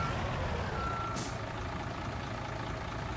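A video game truck's reversing alarm beeps faintly over a steady engine rumble, with a brief hiss of air partway through.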